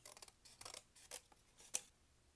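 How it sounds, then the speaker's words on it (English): Scissors snip through thin cereal-box cardboard in a quiet room, giving a series of faint, close, crisp cuts in an uneven rhythm, with no talking. "It's a little bit easier for my scissors to start turning those corners when we go to cut out"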